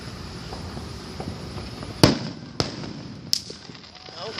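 Three sharp July 4th firework bangs burst out one after another, the first loudest, over steady outdoor background noise.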